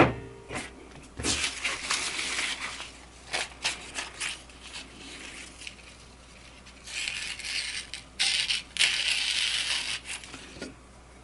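A thin, very sharp CPM S60V steel knife edge at 66.5 HRC with a 10-degree-per-side bevel slicing through bamboo, giving a series of brief, fairly quiet crisp cutting and crunching strokes with gaps between them.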